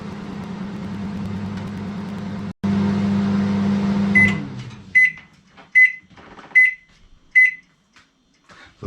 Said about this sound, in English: put that on high power for 2 minutes